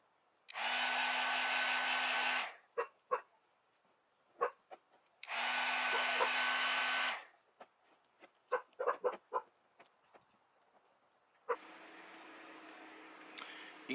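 A heat gun on high warms RV vinyl graphics for removal, blowing in two steady roaring bursts of about two seconds each, separated by scraping and handling clicks, then a quieter lower hum at the end.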